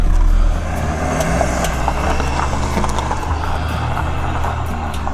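A BMW car struggling to climb a slope in a busy car park, its engine a low labouring drone with a louder start, plus faint clicks and knocks around it.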